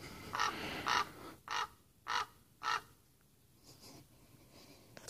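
A crow caws outdoors at an abandoned desert site at Zzyzx, California: five loud, harsh calls in a steady rhythm, then a few fainter caws trailing off over a quiet background.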